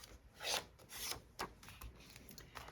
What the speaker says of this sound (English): and you crease it down